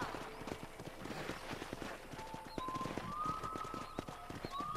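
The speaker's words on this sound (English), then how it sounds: "It looks like we gotta mount a horse again." Horse hooves clip-clop steadily in Red Dead Redemption, a brisk, even rhythm of close hoofbeats with faint whistling tones drifting over them and no talk.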